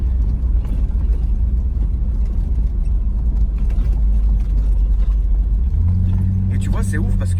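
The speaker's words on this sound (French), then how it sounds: "le son du moteur, il est pas abrutissant" Steady low rumble of a new Chevrolet Camaro engine idling close by, with a deeper, fuller drone settling in near the end under light background talk.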